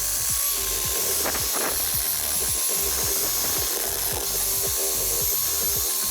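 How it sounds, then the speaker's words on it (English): A steady, loud whirring grind of an adhesive removal wheel spun by a drill, rubbing adhesive off a car surface, continuous throughout with a rough, scraping texture. "I just put it on my drill, do that, and it takes all adhesives off."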